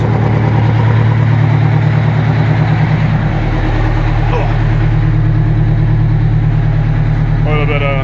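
A lifted 4x4 sled-pulling fire truck with over 600 horsepower idles with a loud, lumpy rumble that smooths and deepens as the engine is revved, staying close and dominant throughout.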